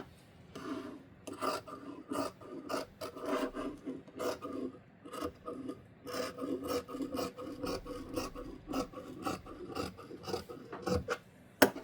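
Scissors cut fabric for a nightie sleeve in a run of crisp, close snips at an irregular, busy rhythm over faint rustling of the cloth.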